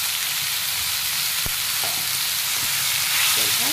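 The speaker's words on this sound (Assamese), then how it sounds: "বিলাহীখিনি গলালৈকে ভাজি ল'লে হ'ল।" Chopped tomatoes fry in a hot pan for a sour fish curry, giving a steady close sizzle with a few light scrapes and clinks as they are stirred.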